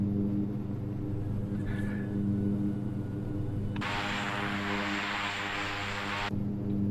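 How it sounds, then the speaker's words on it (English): Landing gear retracting on a simulated Piper PA-46-M500 in X-Plane 12, a broad steady whoosh of a few seconds rising over the constant low drone of the turboprop engine, with no talking. "Oh, let's get that gear up."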